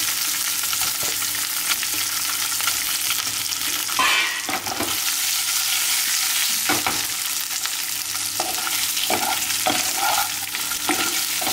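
Semolina balls sizzle steadily in a hot pan with little oil, with occasional stirring scrapes and clinks over the constant frying hiss, close up and without speech.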